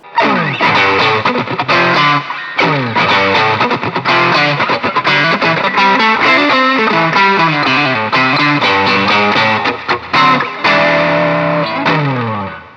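A Gusta GST-05 Strat-style electric guitar plays loud, heavily distorted chords and riffs, switching through its pickups from neck to bridge, sustained and continuous with brief pauses between phrases.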